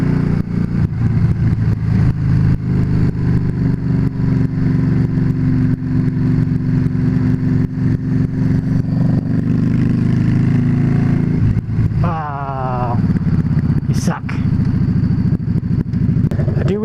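A Yamaha VStar motorcycle engine drones steadily while riding, a loud, close low rumble with wind buffeting, briefly rising in pitch near the end as it revs.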